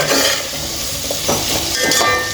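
Vegetables for veg dum biryani frying in a pan: a loud, continuous sizzle with scraping stirs and light clinks of a utensil against the pan, close up and without talk.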